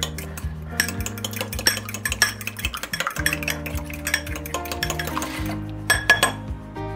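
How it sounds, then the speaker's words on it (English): Fork whisking cracked eggs in a bowl, quick rhythmic clinking and tapping of metal against the bowl over a steady background hum, close and continuous. "Take a fork, whisk these up real quick."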